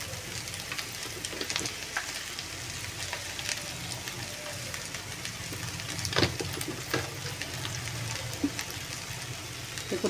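Okra pieces fry in a pan with a soft, continuous sizzle and crackle, faint and steady, with occasional small pops and clicks.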